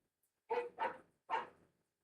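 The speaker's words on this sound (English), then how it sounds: "I just don't know what they're barking at." Three sharp dog barks, two close together and then one after a short pause, fairly distant and clear against a quiet background.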